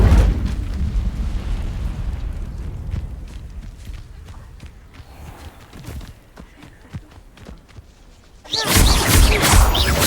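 An Incendio fire spell in Hogwarts Legacy bursts out suddenly as a loud, broad whooshing roar near the end, after a stretch of quieter footsteps and scuffling.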